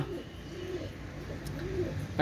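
Several pigeons cooing close by, soft throaty rising-and-falling calls repeating every half second or so over a low background hum, with no talk.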